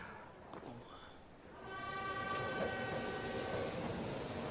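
Train in the anime Chainsaw Man, a quiet rumble that swells into a sustained tonal horn-like whine lasting several seconds, heard alone without speech.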